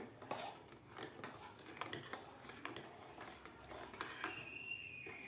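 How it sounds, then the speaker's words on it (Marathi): Spoon clinking and scraping in a pot as sugar is stirred into boiled milk, light irregular taps and knocks, fairly quiet and close, with no voice. "साखरसुद्धा आपल्याला व्यवस्थित मिक्स करून घ्यायची आहे दुधामध्ये"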